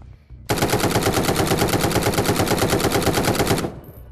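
Rapid automatic gunfire in a Meta Quest 2 VR video game, a loud, close burst of evenly spaced shots lasting about three seconds before cutting off, with no talking.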